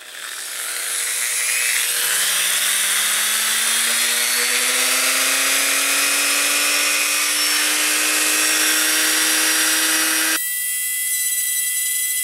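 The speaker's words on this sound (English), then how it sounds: "I'm going to drill from the inside now" A high-pitched drill whines steadily and rises slightly in pitch as it spins up, grinding continuously and loudly from inside a ball-jointed doll head, then shifts tone abruptly near the end.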